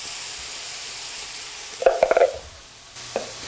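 Minced garlic drops into a hot pan for a low sodium shrimp pasta, giving a short burst of crackling sizzle and stirring, then a single faint clink, with no talking.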